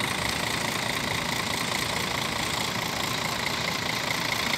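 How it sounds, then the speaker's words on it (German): A MAN city bus in Leverkusen pulls away, its engine giving a steady, fairly loud diesel rumble with broad street noise around it and no talking. "Der MAN fährt jetzt ab."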